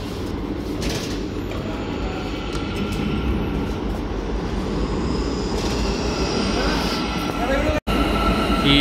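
An Almaty metro train pulls into an underground station, a loud continuous rumble with squealing wheels that builds steadily, briefly cut by a short dropout near the end, with faint voices in the background.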